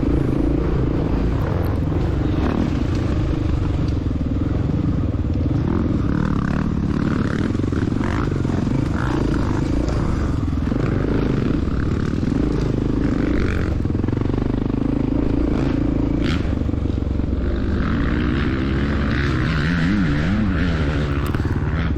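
A 1993 Honda XR600R motorcycle rides off-road in open terrain, its engine droning steadily and loudly throughout with shifting pitch, rattles and scrapes from the trail.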